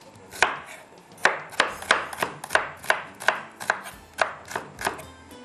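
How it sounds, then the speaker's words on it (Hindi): A knife chops onions on a cutting board for a vegetable korma, about a dozen crisp, loud strikes at a steady, slightly uneven rhythm, close up with no voices. "चलिए जी, प्याज को हमने कट कर लिया"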